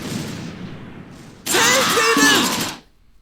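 A mortar half-track fires in a war video game. A quieter rumbling background gives way to a loud, harsh blast-and-crash burst lasting about a second, which then cuts off to near silence.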